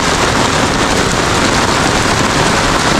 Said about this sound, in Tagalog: So, nangyari dito, lakas na ulan, oh.